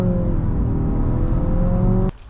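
A 2023 Nissan Altima VC-Turbo engine pulls hard at full throttle, a loud, close, rising drone with clear harmonic whine that holds for about two seconds, then cuts off abruptly.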